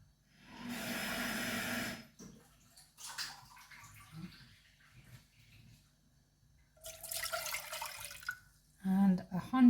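About two seconds of water poured from a jug into a pan on the stove for fig jam with orange, a steady splashing rush, followed by quieter handling noises, a second shorter pour and a voice talking near the end.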